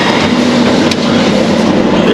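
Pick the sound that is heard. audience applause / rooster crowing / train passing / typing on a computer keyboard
train passing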